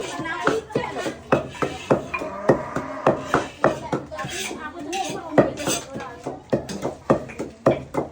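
Spoons and dishes clatter and clink repeatedly in quick, uneven taps, close by, while people talk in Javanese over the noise at a village gathering.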